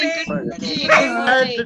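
A big dog gives several short barks and whimpering yips close by, mixed with overlapping greetings from people talking during an online live session.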